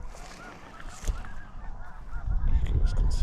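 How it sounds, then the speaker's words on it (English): Geese honk on the water near a lakeside cove, the calls rising and falling outdoors over a steady rumble of wind. "There's the birds out there."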